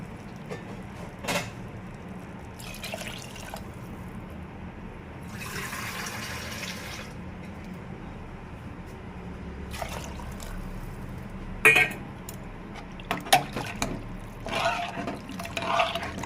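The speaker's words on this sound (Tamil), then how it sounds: "உங்களுக்கு தேவையான அளவு தண்ணி ஊற்றிக்கோங்க" Water is poured into a pot of sambar, a steady splashing pour close by, then trickles and drips as it ends, with no talk.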